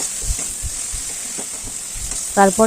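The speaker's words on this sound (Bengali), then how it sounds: "হলুদ গুঁড়ো দিয়ে ভালো করে একটু নাড়াচাড়া করে নিতে হবে" Turmeric is stirred into onion and tomato frying in oil for a fish curry, a loud steady sizzle with soft spatula scrapes and a few sharper clinks near the end.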